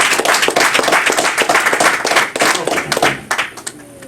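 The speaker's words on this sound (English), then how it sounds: "Give yourself a round of applause." An audience at a sermon-style talk claps together for a few seconds, a dense, loud wash of many hands that thins out toward the end, with no one speaking over it.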